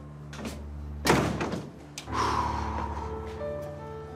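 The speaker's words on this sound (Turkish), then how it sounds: "Kapat kapıyı." A door is pushed shut with a single solid thud near the start, followed by a quieter knock, all set against a low tonal background.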